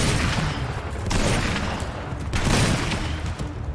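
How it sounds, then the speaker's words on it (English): A grenade exploding in the Titanfall shooter game, heavy rumbling blasts and bursts of gunfire filling the scene, loud and close with two stronger swells of noise. "Go ahead and drop a grenade in there."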